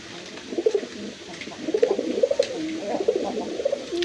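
Domestic pigeons kept for sale, including a male, coo in soft repeated rolling phrases, close and steady, with no talk over them.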